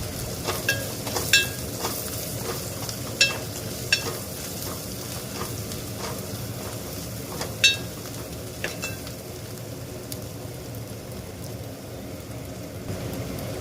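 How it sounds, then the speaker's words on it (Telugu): Mushrooms sizzle steadily in a hot pan for a Telugu-style mushroom, potato and tomato curry, a constant crackling fry broken by sharp scrapes and taps from stirring. "మష్రూమ్ అండి, ఇవి మష్రూమ్ వేస్తున్నాను. కొత్తగుడుగులు కొంచెం ఫ్రై చేసుకోవాలి."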